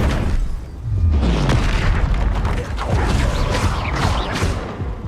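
Confringo blasting spell explosions in the Hogwarts Legacy video game: loud, deep booming blasts and rumbling bursts filling the whole stretch, one after another without pause.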